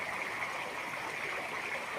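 Heavy rainwater flowing and rushing after a downpour, a steady dense hiss of running water, close and unbroken for the whole moment.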